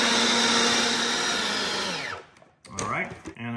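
A food processor whirs at high speed blending Caesar dressing with garlic cloves, a loud steady motor drone that spins down after about two seconds, followed by a few short clunks and a brief winding pulse.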